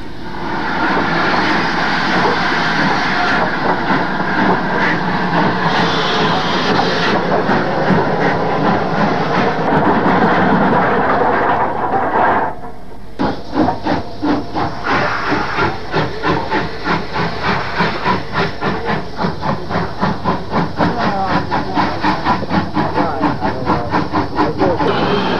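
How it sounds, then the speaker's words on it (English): A Lord Nelson class 4-6-0 steam locomotive makes a loud, close passage with a continuous hiss of steam, then rapid rhythmic chuffing and rail clatter as the train rolls by. "30857 was a Lord Nelson 460 locomotive."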